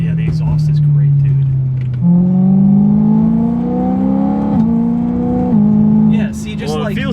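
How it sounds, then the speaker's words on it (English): A BMW M3 with the S65 V8 engine driving, its exhaust loud and close, droning as revs climb steadily through gears with brief dips at shifts, voices briefly audible. "Yeah, the exhaust is great, dude."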